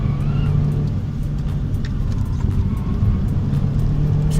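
A Mini Cooper S R56 JCW drives along a road with a steady, loud engine drone and road rumble from inside the car, holding an even pace throughout.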